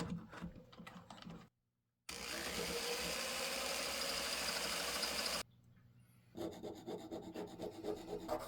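A loud, rough scraping of a very dull chisel cutting into spinning wood on a homemade lathe lasts a few seconds between quieter stretches, with short gaps of near-silence.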